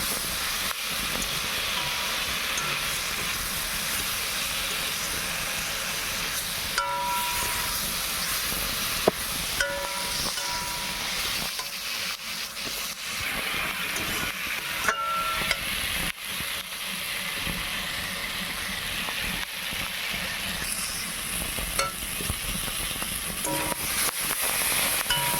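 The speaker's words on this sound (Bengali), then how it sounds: "এখন দিয়ে দিচ্ছি ধনে গুঁড়ো দিয়ে খুব ভালো করে নেড়ে চেড়ে নেব, মানে একটু খুব ভালো করে কষিয়ে নেব" Vegetables with taro and coriander powder are stirred and fried in a hot pan, giving a continuous steady sizzle and hiss throughout with occasional scraping clinks of a spatula against the pan.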